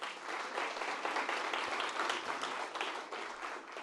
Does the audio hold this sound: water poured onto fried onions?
no